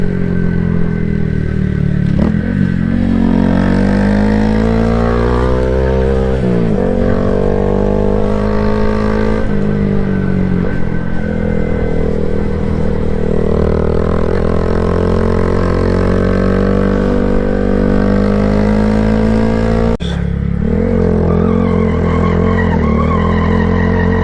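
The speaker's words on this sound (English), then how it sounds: "I can hit a burnout." A car's engine revs hard and steadily for a burnout, loud and up close, with rising and falling pitch sweeps, a harsh clattering edge and a brief break about twenty seconds in before the roar resumes.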